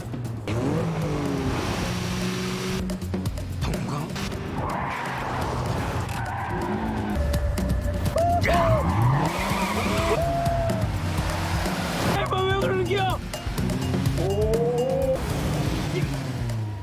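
Cars in a street race, with sustained tire skidding and squeals, rising engine revs and whining passes that run loud and continuous beneath a voice.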